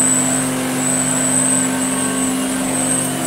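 A restored 1970s Electrolux Z504 upright vacuum cleaner runs on a rug at the low pile setting, giving a steady loud motor hum with a sharp high whine held throughout, close and alone.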